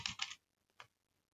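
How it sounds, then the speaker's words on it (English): Quick keystrokes on a computer keyboard while a name is entered into a software save dialog: a short cluster of clicks, a pause, then one more faint tap, close and quiet. "typing the name that we would like for the CSV to have"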